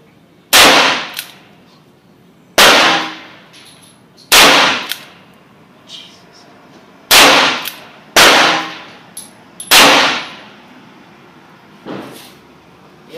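A Beretta pistol fires a five-shot group at about 12 and a half yards, sharp, loud reports spaced a couple of seconds apart, each with a short ringing decay, with a few fainter clanks between shots.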